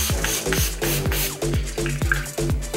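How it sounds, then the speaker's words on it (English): Skindinavia makeup finishing spray misted in a rapid series of short, close hissing bursts that come in an even rhythm, with a soft tonal background underneath. "the makeup finishing spray"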